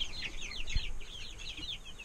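Little birds give rapid, repeated high peeps and chirps in a steady stream over a low background hum, close and moderately loud.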